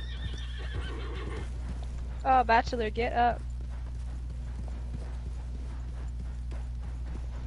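Horses whinny with a bright harmonic neigh midway, over a steady bed of hoof clip-clop and ambient game sound in Red Dead Online, with players chatting over voice chat throughout.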